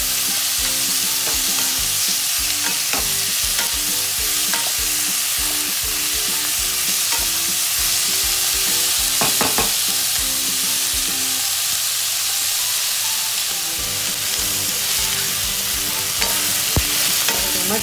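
Tomatoes frying in a pan for a vegetarian Kolhapuri dish, a steady loud sizzle with repeated scraping and clinking of a spoon as the tomatoes are stirred, no voices.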